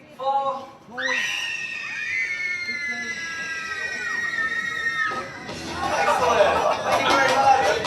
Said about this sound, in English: Does anyone out there want to come and scream?